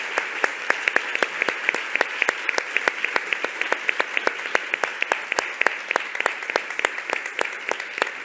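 Sparse applause at a medical talk: a few hands clapping with distinct, sharp individual claps over a soft bed of quieter clapping, steady and rhythmic for about eight seconds.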